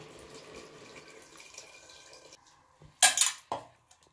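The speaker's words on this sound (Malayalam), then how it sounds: "ഇപ്പോൾ പുളി കലക്കിയത് നമുക്കതിലേക്ക് ഒഴിക്കാം." Tamarind water is poured into a curry pot in a home kitchen, a brief splashing gush near the end followed by a second shorter pour, close and fairly loud after quiet kitchen background.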